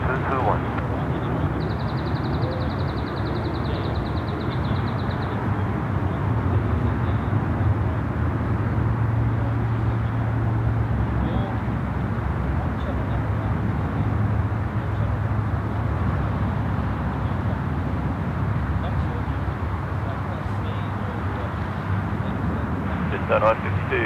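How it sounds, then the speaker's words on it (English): A Singapore Airlines Boeing 777 taking off at Sydney Airport, a long, steady roar of jet engines heard from a distance that holds for the whole stretch, with a faint high whine early on. "Here we go, the Singapore Airlines 777 now, Singapore 221"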